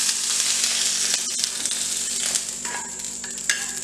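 Onion pieces sautéing in a pan, a loud, continuous close-up sizzle with a few faint stirring clinks.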